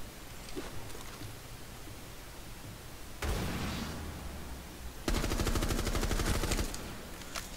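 Gunfire in Rainbow Six Siege, quiet rattling shots at first, then a louder burst and a rapid automatic volley of evenly spaced cracks near the end.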